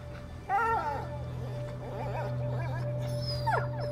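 A dog whimpers and yips in the video game A Plague Tale, several plaintive whines over a steady low game hum, close and clear, with a voice speaking at times.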